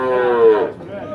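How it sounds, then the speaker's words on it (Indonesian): A single loud, close bovine moo, rich and falling in pitch, from cattle at the Tuban livestock market. "seperti ini kondisi pasar sapi Tuban atau pasar hewan Tuban"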